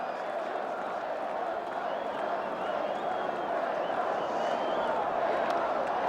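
A Fenway Park crowd roars continuously for Pedro Martinez at his 1998 home debut, a dense, even wash of cheering and clapping from a large ballpark audience with no break in the noise.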